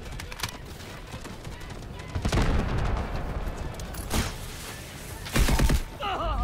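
Gunfire from the video game Delta Force, a few sharp shots and short bursts spread across the clip at moderate loudness, mixed with game noise and someone talking over it.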